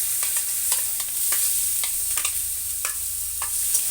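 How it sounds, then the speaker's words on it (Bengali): Onion frying in oil with cumin seeds and bay leaf, a steady close sizzle with repeated scraping stirs of a spatula against the pan, no voices. "পেঁয়াজটা সুন্দর করে ভেজে নেব একটু।"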